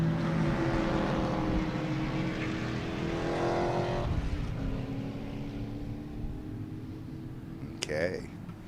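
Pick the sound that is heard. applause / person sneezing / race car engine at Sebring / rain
race car engine at Sebring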